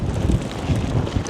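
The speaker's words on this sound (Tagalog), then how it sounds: "sa area na to, kasi nga nasa may dagat siya, mahangin din" Strong sea wind gusting past a microphone on the waterfront in Busan, a steady low rumbling buffet with no talk over it.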